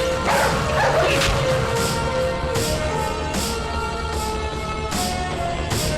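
Several dogs bark and yip in quick bursts, fairly close and loud, over a steady background bed in a dramatic Bollywood film scene, with no talk over it.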